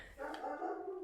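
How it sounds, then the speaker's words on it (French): A dog gives a single drawn-out bark from nearby, loud and alone. "Ah, désolé, c'est mon chien."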